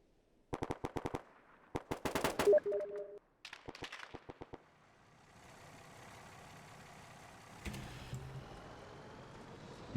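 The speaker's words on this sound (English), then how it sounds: "More machine gun fire going down on that Vic." Machine gun fire in ARMA 3 rakes a vehicle in rapid close bursts, with a pause before further bursts, then a steady engine-like rumble with a sharper burst near the end.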